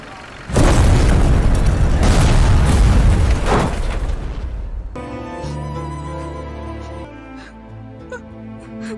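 A loud, rumbling bus explosion roars for several seconds before fading, after which music takes over.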